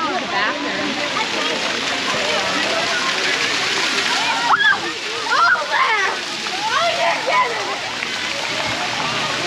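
Broad steady splashing and rushing water at an outdoor dinosaur-themed water park, with short bursts of children's voices calling out over the continuous spray.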